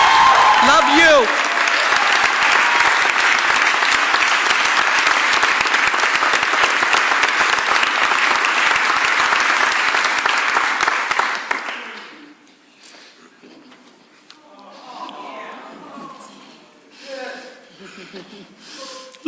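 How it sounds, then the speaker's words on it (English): Sustained applause from an audience at a mayoral press conference on the end of a sanitation workers' strike, loud and steady for about twelve seconds before dropping away to scattered voices and room noise. "But I want you to give a super round of applause to Crystal Jacob Shipman, our sanitation."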